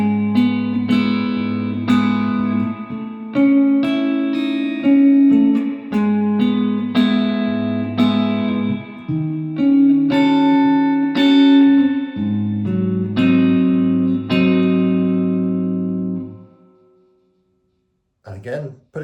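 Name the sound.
guitar playing second verse of a song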